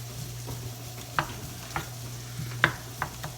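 Onions for a ghost pepper sauce fry and are stirred in a pan. A soft sizzle runs steadily beneath a low steady hum, broken by a few faint utensil taps and scrapes spaced about half a second apart.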